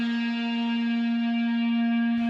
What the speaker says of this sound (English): This is what the reverb effect adds on to the original sound.